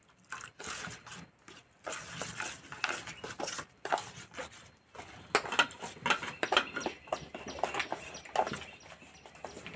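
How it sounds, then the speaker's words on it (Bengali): A spoon stirs semolina and potato batter with a little water in a bowl, making rapid, busy clattering and scraping against the sides, close and fairly loud throughout. "অল্প অল্প জল দিয়ে গুলে নেব।"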